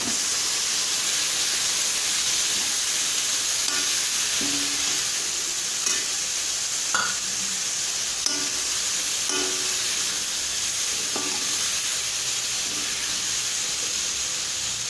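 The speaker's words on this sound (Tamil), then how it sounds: "இது பச்சை வாசனை போக வதக்கணும்" Ginger garlic paste sautéing in a pan makes a continuous bright hiss and sizzle, broken by a few spoon scrapes and clicks against the pan. No one speaks.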